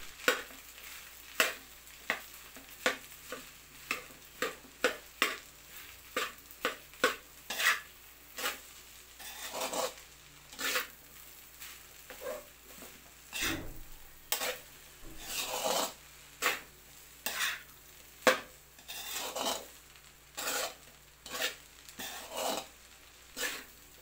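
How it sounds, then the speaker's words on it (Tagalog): A spoon scrapes and stirs rice in a hot pan while a pork stock cube melts in, giving repeated rhythmic scraping strokes over a faint sizzle. No one speaks. "Atin lang ang tutunawin ito, ating halu-haluing maigay para matunaw agad."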